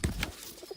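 A pigeon in a pigeon house gives a short, close coo burst at the start, followed by softer, fainter rustling.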